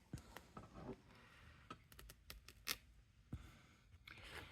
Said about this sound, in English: It's best to have non-stick scissors for this.